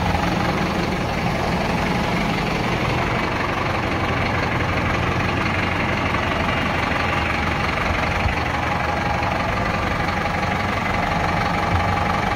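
A Valtra G135 tractor engine idles steadily throughout, a continuous low rumble with a constant mechanical knock and no talk over it.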